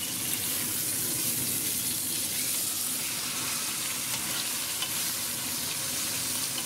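Meat browns in a hot pot with a continuous even sizzle, close and moderately loud, and no voices.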